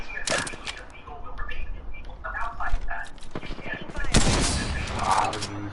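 Video game gunfire in a shooter with recharging shields: sharp shots and bursts crackle at the start and again around the fourth second, mixed with game effects while a voice talks throughout.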